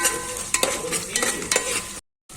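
Carrots, beans, ginger and garlic are sautéed and stirred in a pan for a veg pulao, giving a steady close sizzle broken by a few scraping stirs, then the sound cuts to silence.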